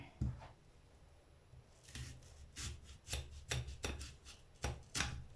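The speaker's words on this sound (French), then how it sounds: "Je vais le couper pour enlever ce qui n'est pas bon" A knife slices through a veal paupiette to trim away the bad parts, giving a series of soft, scraping chopping strokes that come in irregular bursts, close and moderately loud.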